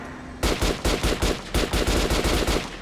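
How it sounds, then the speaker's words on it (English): Rapid bursts of gunfire from a weapon being test-fired in Metro: Last Light Redux, loud close shots in quick succession following a sudden start, with no talk over them. "Zobaczmy jak to strzela."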